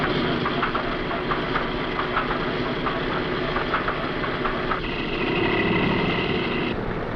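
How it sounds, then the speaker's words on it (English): The number 2 radial engine of a B-17 Flying Fortress runs with a steady, heavy, rough drone and rhythmic knocking pulses, loud and close, shifting in tone partway through. "The horizon should snap into position firmly and quickly just as soon as the number 2 engine starts."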